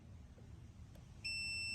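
A multimeter's continuity test emits a steady electronic beep that starts abruptly and holds to the end, clear and close over a quiet room hum.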